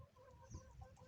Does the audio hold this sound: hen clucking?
yes